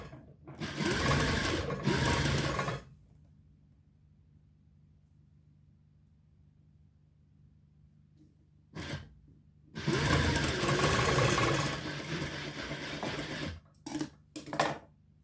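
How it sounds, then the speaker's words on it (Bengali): A sewing machine stitches a shirt sleeve in close, loud bursts: a run of about two seconds, a long quiet pause, then a brief start and a longer run ending in short stuttering spurts. "সোজা করে এক সমানভাবে সেলাই দিতে হবে।"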